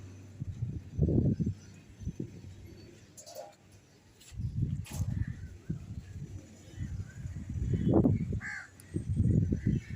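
Crows caw repeatedly outdoors under a cloudy sky before rain, with harsh calls coming in uneven clusters at moderate distance over a faint background.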